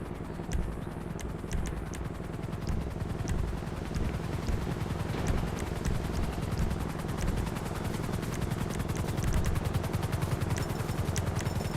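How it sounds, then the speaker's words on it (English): A helicopter hovers overhead in GTA Online, its steady rotor thrum and beating chop sounding continuously at moderate loudness, with rapid gunfire-like clatter mixed in. "I said a helicopter hovering above me."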